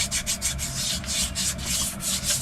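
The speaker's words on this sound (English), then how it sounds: "I've got this rubbed down with the wet and dry" Wet and dry sandpaper of 600 grit rubs back and forth over a fossil, a close rhythmic scratchy swishing with regular strokes and no speech.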